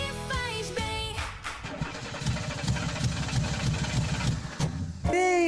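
A car engine sound effect for a radio ad turns over and runs with a steady, rumbling idle, set between brief bursts of music at the start and end.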